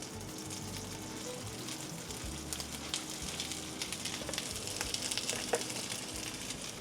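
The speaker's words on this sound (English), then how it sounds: "when we're caramelizing sweet corn, we want to make sure that the pan is big enough" Frozen sweet corn caramelizing in a large pan gives a steady, close sizzle and crackle with occasional pops, holding even throughout and growing slightly busier toward the end.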